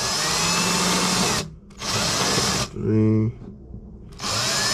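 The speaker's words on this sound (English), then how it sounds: "So I just take just a regular drill, and I'm going to do a hole here." A regular power drill bores a small hole into a cement fishing jig mold, its loud whirring running in bursts with short stops, while a voice briefly counts in between.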